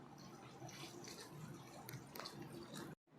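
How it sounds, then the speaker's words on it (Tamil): Water is poured into a cooking pot of dal and ridge gourd, a soft, continuous splashing trickle of steady, fairly faint pouring that stops abruptly just before the end. "இப்போ இது தகுந்த தண்ணி ஊற்றிடலாங்க."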